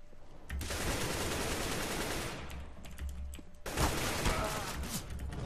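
Rapid automatic gunfire in CS:GO, a video game, in long sustained bursts with a brief pause midway and a fresh loud burst near the end, dense and close.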